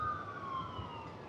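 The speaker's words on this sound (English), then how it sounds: "So one paramedic or one ambulance just gone through." An ambulance siren wails faintly in the distance as the vehicle passes along the coast between Kirra and Snapper in wild weather, a thin wavering tone over low rumbling background noise.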